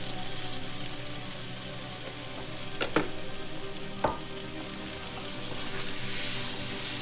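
Meat browning in a pan with celery, onion and flour gives a constant, even frying sizzle, with a couple of sharp utensil knocks near the middle as it is stirred. No voices are heard.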